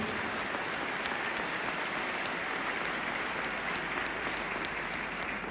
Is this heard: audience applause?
yes